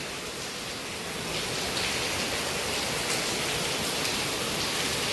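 Rain falls steadily outdoors, a dense, even hiss that stays constant and fairly loud throughout, with no talking.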